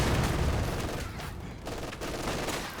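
Rapid machine gun fire from two MG positions in the Company of Heroes 2 battle game, dense overlapping bursts of gunfire forming a continuous crackling barrage with a brief dip midway.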